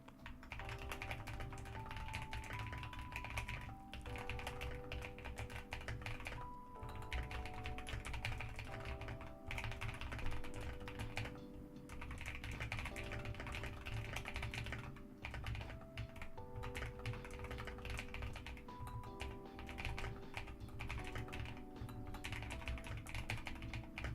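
Steady, close typing on a newly bought computer keyboard, dense clicking keystrokes continuing throughout with brief pauses, faint background music.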